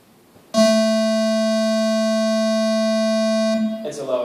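A Web Audio API oscillator plays a steady 220 Hz tone with a buzzy, harmonic-rich timbre, starting abruptly and holding for about three seconds before cutting off, followed by a brief bit of talk.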